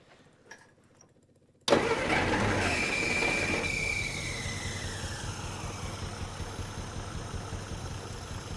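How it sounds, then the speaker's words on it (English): An old Plymouth car engine catches and then idles steadily after its first crank in 30 years. A quiet clicking start gives way to a sudden loud, continuous rumbling idle with a brief rising whine, and the idle holds steady to the end. "Let's just see if it'll idle all by itself like that again."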